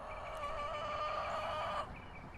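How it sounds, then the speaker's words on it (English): Backyard chickens beside a garden bed cluck in a busy, overlapping chatter, fairly close and steady, with no voices. "The chickens are right next to that today. So you can probably hear them."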